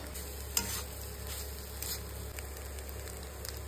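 Chilli chicken frying in a pan, with steady low sizzling and soft stirring scrapes throughout, one brief louder clink near the start.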